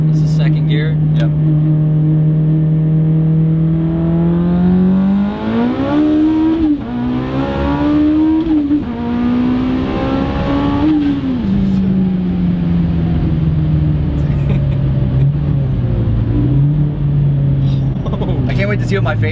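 A 900+hp Mitsubishi EVO 9 running 55 psi of boost accelerates hard in second gear, its engine note climbing and falling loudly inside the cabin while people talk over it.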